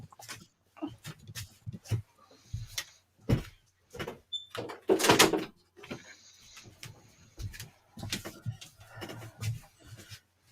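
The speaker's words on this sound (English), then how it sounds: "let me get this other door shut." A door being pushed shut indoors at home: a string of close, sharp thuds and knocks, with a louder rattling burst near the middle, and no talking.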